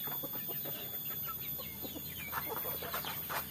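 Village roosters cluck in short, scattered bursts against a quiet misty morning background, some calls closer and louder toward the end, with no speech.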